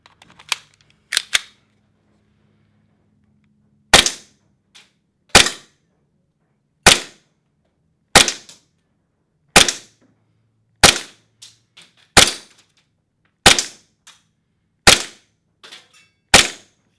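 A Tokyo Marui M9 gas airsoft pistol firing 0.2 gram BBs on green gas, with about a dozen sharp, loud snapping shots spaced evenly a second or so apart, each followed by a faint click, in an otherwise quiet space.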